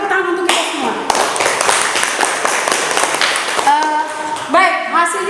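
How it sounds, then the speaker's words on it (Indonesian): Students clapping together in a high school classroom during a math lesson, a burst of dense claps between stretches of voices, with talk before and after. "sekali lagi tepuk tangan untuk kita semua"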